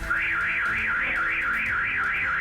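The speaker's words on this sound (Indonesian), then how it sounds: "alarm mobil berbunyi" A car alarm wails close by in a steady, repeating rising-and-falling siren tone, loud and continuous with no talking.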